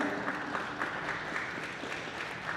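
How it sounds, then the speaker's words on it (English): At a fall sports senior night celebration, a crowd gives a round of applause for the seniors, a dense, distant, quiet patter that holds steady throughout with no one speaking. "Let's get a round of applause."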